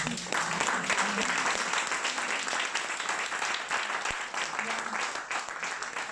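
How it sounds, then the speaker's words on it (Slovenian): Audience applause follows a book presentation by Sanja Rozman. Moderate, steady clapping from a gathered crowd continues throughout and fades slightly toward the end. "Mislim, da si zaslužimo en aplavz, a ne?"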